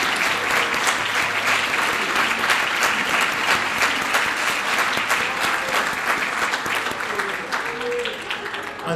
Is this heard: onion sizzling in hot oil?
no